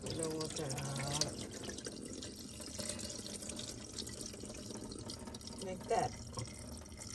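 Water is poured off rice being washed by hand, a steady watery trickle and drip running beneath casual talk from several people.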